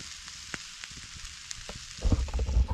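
Rainbow trout cooking at an icy campsite, a faint sizzle with a few scattered pops that swells into louder, denser crackling and rumbling over the final second.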